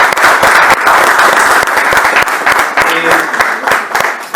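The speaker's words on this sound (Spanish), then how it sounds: "Así que hoy pido un aplauso para recibir a" A radio-show audience applauds to welcome a guest, loud close clapping with sharp individual claps standing out, busy and sustained, easing slightly toward the end with a faint tonal sound underneath.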